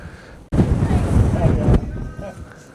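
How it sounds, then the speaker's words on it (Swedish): Strong wind buffets the microphone on a small windy cape by the sea at Lövstaviken, rising abruptly into a loud roar, then dropping back to a lighter rush. "tillbaka till ett mysigt men jäkligt blåsigt liten udde här där vi har husbilarna i Lövstaviken"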